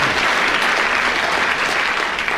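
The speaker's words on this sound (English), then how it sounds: "They've already decided with their applause." Studio audience on a radio panel game bursts into steady, dense applause, loud and unbroken for a couple of seconds.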